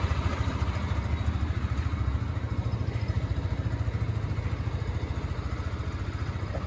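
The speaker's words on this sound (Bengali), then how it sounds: "সাউন্ড ইঞ্জিনের সাউন্ড শুনুন।" A nearly new 2025 Yamaha FZ V2 motorcycle, three months old with about 2,700 km, idles steadily up close, its fast even engine pulse and light mechanical clatter running unbroken with no voices.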